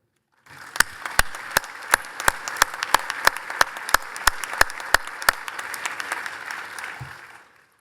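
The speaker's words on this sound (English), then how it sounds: "We can clap, can't we?" Audience clapping at a memorial celebration of a university president emeritus, dense applause from a roomful of people with a few sharp, close claps punctuating it, rising in and dying away after about seven seconds.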